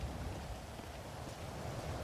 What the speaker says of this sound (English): Is it still raining? It's still bloody raining.